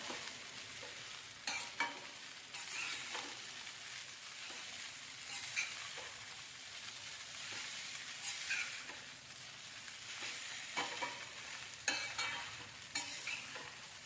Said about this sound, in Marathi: असं हलवून घेऊन चांगलं परतून परतून घ्यायचं